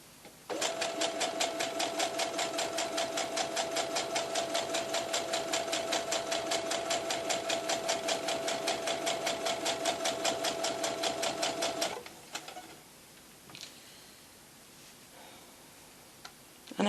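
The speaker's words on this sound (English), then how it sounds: "I'm just going to chain stitch that one." A sewing machine chain stitching a baby blanket runs steadily with a rapid, even mechanical chatter for about eleven seconds, then stops, leaving a few faint handling clicks.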